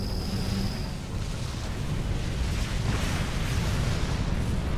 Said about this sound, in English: Oh wow, that explosion actually destroyed those missiles.